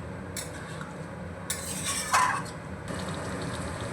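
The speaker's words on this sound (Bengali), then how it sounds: "এইভাবে একটু নাড়িয়ে দিতে হবে" A spoon stirs potato biryani in a metal pot, giving soft scraping and a couple of light clinks over a steady low background hiss, close up and alone.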